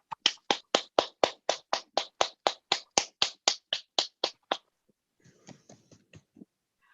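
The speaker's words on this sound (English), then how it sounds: "over to you with a big round of applause" Steady, evenly spaced claps, about eighteen in quick succession, sound close and crisp during a tarot course intro session, then give way to a few faint, scattered taps.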